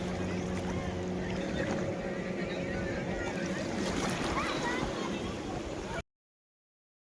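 Sea waves washing at the beach at Dwarka, a continuous rushing wash of water with wind noise, with people's voices under it, ending abruptly in silence.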